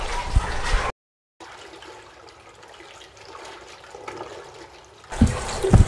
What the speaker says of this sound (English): the sound of the water churning making me sleepy